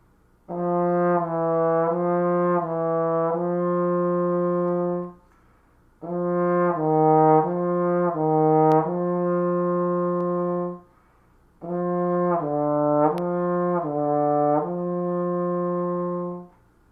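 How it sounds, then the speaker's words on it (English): A trombone plays three smoothly connected melodic phrases, each separated by a short pause, sustained and clear with no other sounds. "This is how we play legato on the trombone"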